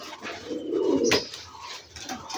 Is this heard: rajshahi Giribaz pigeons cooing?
yes